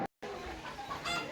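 An American Silkie hen clucks softly at a hillside tourist spot in Yelagiri, a brief low clucking after a short dropout, with faint bird calls nearby.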